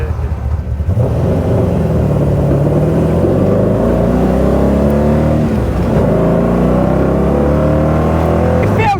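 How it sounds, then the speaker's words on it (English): An AC Cobra's engine roars loudly and steadily throughout, its rumbling exhaust adding a rough crackle, with a brief dip in the middle before the revving picks up again. "It definitely sounds of the roaring engine. And the exhaust has a bit of crack and popple."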